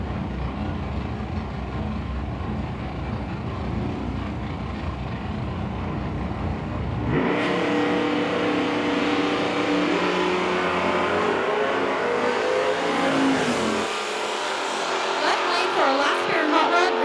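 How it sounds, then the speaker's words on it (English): Nostalgia hot rod drag race cars roar down the track, a steady distant engine drone first, then a louder, brighter blast of revving motors that swells and fades, with announcer-style talk in the background. "Last pair of hot rod coming down the track."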